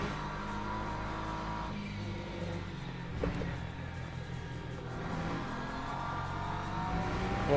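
A BMW race car engine in a racing game drones steadily at high revs with shifting pitch as it changes gear, loud and continuous throughout, with no talk over it.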